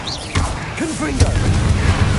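A Confringo explosive spell blast in Hogwarts Legacy lands as a sudden booming burst followed by a rumbling, crackling tail, loud and close, with brief voice-like tones mixed over the impact.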